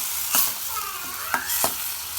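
Cauliflower upma cooking with water in a pan makes a steady sizzling bubble, broken by a few sharp scrapes and taps of a spoon stirring, close and without talk.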